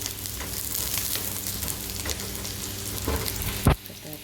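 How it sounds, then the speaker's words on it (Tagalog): Green peas sautéing in a pan make a steady, close hiss of sizzling oil with faint crackles throughout, ending in a sharp utensil knock near the end, with no talking. "Yung green peas po, guys, ginigisa ko muna siya."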